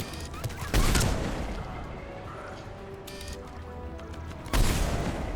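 Two sharp, loud gunshots crack out in the video game Mass Effect 3, a few seconds apart, each a sudden broadband burst decaying into the rumbling game soundscape in between.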